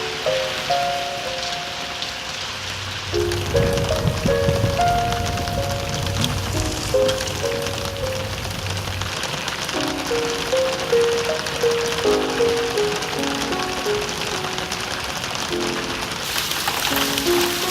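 Rain falling on a car, used in car sound-design marketing, a steady patter under a soft music track with shifting tones, moderately loud throughout, with no talk.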